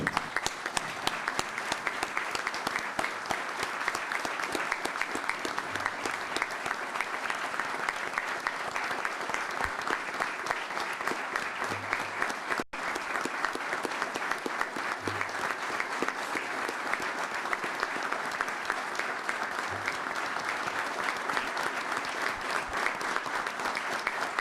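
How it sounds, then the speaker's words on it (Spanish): Standing audience at a tribute ceremony giving a long ovation, steady rhythmic clapping from many hands that carries on evenly for over twenty seconds with a brief break midway. "ponerse de pie y dar un minuto de aplausos"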